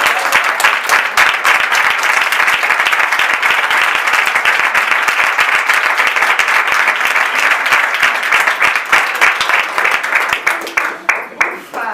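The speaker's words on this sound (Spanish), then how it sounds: "un aplauso para ti" Sustained, loud applause from an audience at a book presentation, dense clapping going on for about twelve seconds and thinning slightly toward the end.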